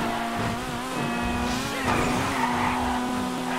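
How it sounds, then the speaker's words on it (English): Honda Civic Type R drifting in GTA 5, tires skidding with a sustained wavering squeal over a running engine, continuous and close, with no talking. "It's a little harder to drift with this car than I thought"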